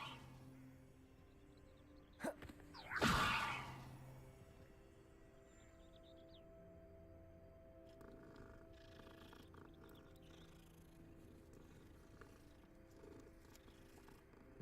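A cat in the video game Hogwarts Legacy purrs softly and steadily, with a brief louder burst of sound near the start, then a low continuous purr to the end.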